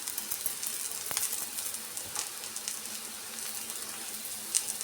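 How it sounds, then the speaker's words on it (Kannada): Poppy seeds and spices crackle in a hot pan over a medium flame while cooking mutton sambar, a steady faint sizzle dotted with small pops and splutters. "ನೋಡಿ, ಗಸಗಸೆನೂ ಸಿಡಿತಾ ಇದೆ."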